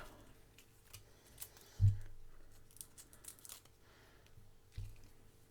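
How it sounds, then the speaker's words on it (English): Scissors cut through a taped card with a few quiet, close snips and crunches, one sharper cut standing out, then faint paper handling. "without it sticking to my scissors, cut it in half"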